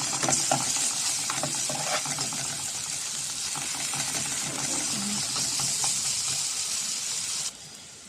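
Onion and garlic frying in a pan for a fish tray dish, a steady hiss of sizzling oil with light scraping and stirring clicks up close, cutting off abruptly near the end.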